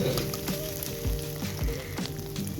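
Tomato, turmeric and green chili frying in a pan, a steady close sizzle with a few soft stirring scrapes and taps, no voices.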